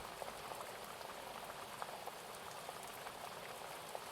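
Steady rain patters in a dense, even hiss, broken by scattered brighter drops striking a surface, continuous and close with no voices.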